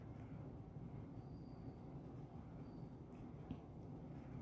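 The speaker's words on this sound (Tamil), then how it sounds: "இங்கே பாருங்க, ட்ரெயின் போய் அங்கே நிற்கும்." A train rolling past in the Indian Bike Driving video game, a steady low rumble of wheels and carriages with a faint squeal, continuous and fairly distant, no voices.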